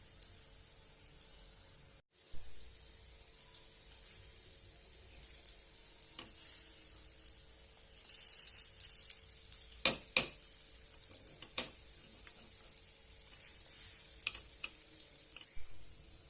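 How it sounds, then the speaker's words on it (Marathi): Moong dal appe sizzle steadily as they roast crisp on both sides in an appe pan, a soft continuous fry with occasional sharp crackles and scraping stirs, and no talking. "मस्तपैकी दोन्ही बाजूने खरपूस असं भाजून घेऊया"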